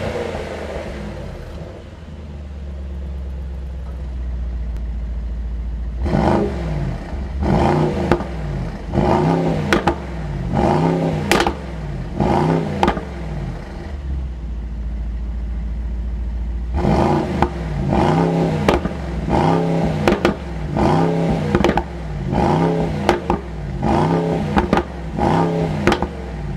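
Close, loud exhaust of a Mercedes-AMG SL55 as the engine is blipped repeatedly in rapid bursts, two long runs of sharp revs separated by a brief deep idle.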